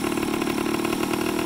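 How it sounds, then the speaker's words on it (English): A 1985 Honda Gyro S three-wheeler sits with its small engine idling, a steady, close, buzzing putter that holds an even loudness throughout with no talking. "You hear it now kind of starting to idle down. And that's your idle on it."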